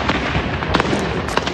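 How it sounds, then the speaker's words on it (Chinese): Artillery blasts in the West Bank, with houses sending up smoke: a rapid run of loud, sharp booms and cracks over continuous rumbling, with several distinct bursts standing out. "约旦河西岸房子冒出浓烟，炮声隆隆"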